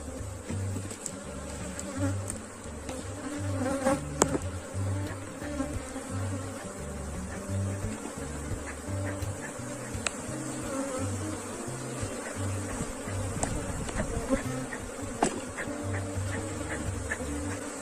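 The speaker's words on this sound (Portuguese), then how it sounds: "Um enxame super populoso e bem controlado." Dense, steady buzzing of a large, heavily populated swarm of Africanized honey bees at an open hive, with a constant drone close by and an occasional louder bee passing near.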